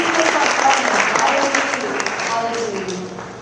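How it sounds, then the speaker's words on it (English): A crowd at a Mahavir Jayanti celebration claps steadily in a dense, continuous round of applause, loud throughout and easing slightly toward the end. "another round of applause for the two ladies"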